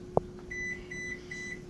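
A kitchen oven chirps a string of short, high electronic beeps while it heats up, faint and evenly spaced over a soft room hum, with one dull knock just before.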